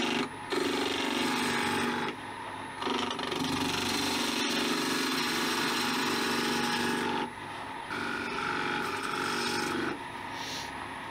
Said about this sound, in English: That is the hardest cut with a skew